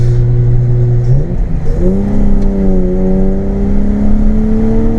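A BMW E36 with a swapped 2.8 litre M52 straight-six and a straight pipe accelerates hard, heard loud from close by. Its raspy engine note climbs steadily, drops briefly at a gear change, then rises again.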